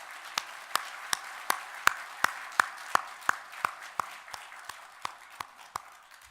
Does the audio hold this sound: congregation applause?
yes